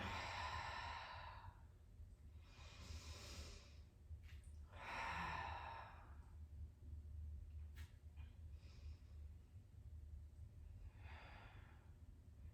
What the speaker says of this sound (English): Take 3 cleansing breaths in and out.